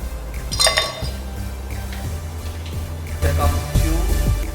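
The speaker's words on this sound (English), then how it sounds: "I am going to put 3 ice cubes in the glass" Three ice cubes dropped one by one into a glass for a spirit and mixer, each landing as a sharp clink over a steady low hum, the last strikes coming close together.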